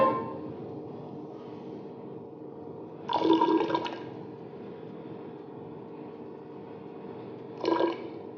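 Two short bursts of water pouring into a beaker, one around three seconds and a briefer one near the end, over a quiet steady background hum.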